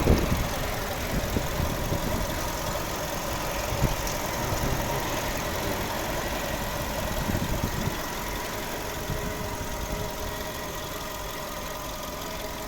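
A 2009 Skoda Octavia A5 1.6 MPI petrol engine idles steadily with a low, even rumble and faint mechanical ticking, continuous throughout with no voices.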